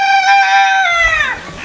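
Sonali chickens raised for egg laying crow loudly in a poultry farm, one long drawn-out call close by, with faint farm clucking underneath and no talk.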